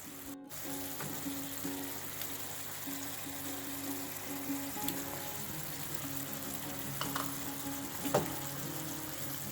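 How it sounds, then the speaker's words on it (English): Prawns hitting a hot pan of moringa (drumstick) pieces for a Kerala theeyal, giving a steady close sizzle and frying crackle throughout with a few louder spits near the end. "to this I'm going to add the prawns"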